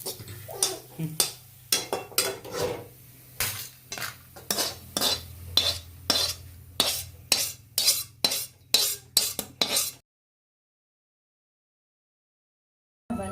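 A spatula or spoon scrapes roasted onion out of a pan for a Maharashtrian katachi amti, giving a quick series of sharp metallic scrapes and clinks over a low hum, then silence.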